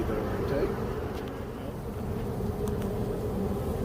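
A swarm of honeybees buzzes and fans its wings at a swarm catch, a dense, continuous low hum that stays steady and fairly faint throughout.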